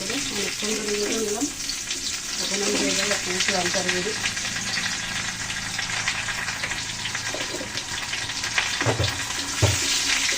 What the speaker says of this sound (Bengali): তারপরকে সুন্দর করে ভেজে নেব একদম লাল লাল